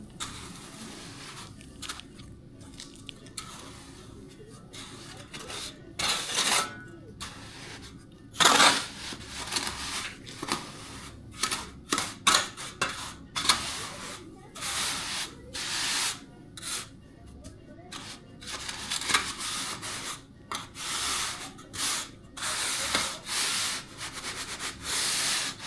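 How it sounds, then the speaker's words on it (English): A trowel scrapes and spreads sand and cement screed across a floor, a long stretch of rough gritty rubbing strokes coming close by in irregular bursts, with no voices. "use my trowel here and spread this out a bit"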